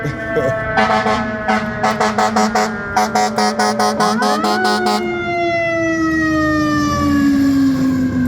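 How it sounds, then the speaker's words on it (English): An emergency vehicle siren nearby, first in rapid repeated yelp bursts and then a long wail that falls slowly in pitch, loud and clear over faint background noise. "that siren's been going on for quite a while now"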